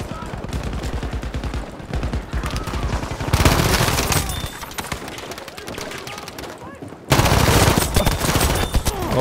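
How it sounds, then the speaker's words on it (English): Rapid bursts of automatic gunfire in a Battlefield 5 multiplayer match on the Solomon Islands map, loud and continuous with dense volleys and a brief lull, with distant shots mixed in and faint talk. "they're shooting me for the wall"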